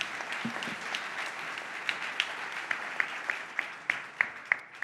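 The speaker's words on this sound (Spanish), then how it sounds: "Un aplauso para nuestra militancia." Applause for Podemos activists at a left-wing autumn university gathering, a sustained wash of clapping with a few sharper individual claps standing out toward the end, moderately distant.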